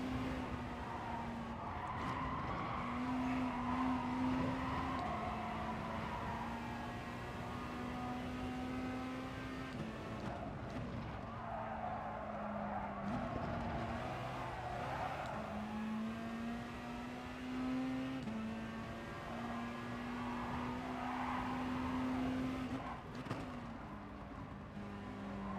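Race cars roar through a video game race with a sustained engine drone that climbs and drops through gear shifts, interrupted by brief dips, steady and continuous throughout.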